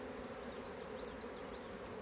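Honeybees buzz around the hive frames in a new beeyard, a dense, steady drone of many insects close by with no voices.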